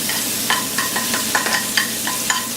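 Vegetables sautéing in a pan give a steady, close sizzle, broken by regular scrapes and clacks of a utensil stirring through them roughly every quarter second.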